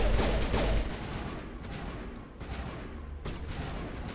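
Pistol gunfire in the Mass Effect Legendary Edition video game, a few sharp shots and bursts early on followed by more scattered shots, fairly quiet and mixed with game background noise.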